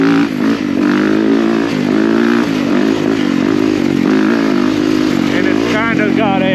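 A 450X dirt bike engine with a wide-ratio six-speed gearbox runs steadily at close range, a loud, even drone that holds without breaks for several seconds.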